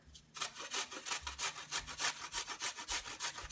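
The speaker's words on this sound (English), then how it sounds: "So I just grate it right on top of the pan." Fresh ginger is grated straight over a pan for Ethiopian spiced butter, giving a close, rhythmic rasping of quick even strokes, about a dozen in a row, with no talking.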